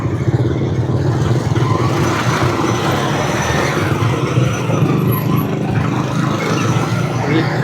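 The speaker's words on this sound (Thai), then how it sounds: "มีรถติดไฟแดงจอดไฟแดง" Cars and other traffic idle and roll at a red light on a street in Vientiane, a close, loud, steady engine rumble with clatter mixed in.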